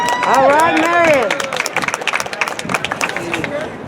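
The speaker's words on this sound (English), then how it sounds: "Give a big round of applause for Sister Miriam." A rally crowd at the California State Capitol protesting CPS cheers and whoops loudly, then breaks into dense, steady clapping that carries on to the end, with voices mixed into the noise.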